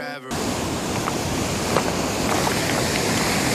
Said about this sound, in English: Because the waves get pretty big and they smash you away if you get too close.